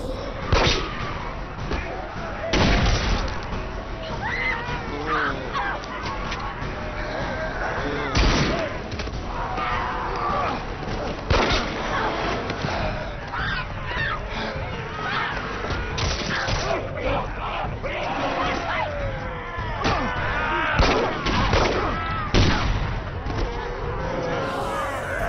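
Gunfire in a zombie action movie shootout, bursts of shots and loud bangs scattered through dense chaotic action sound, with shouting voices throughout.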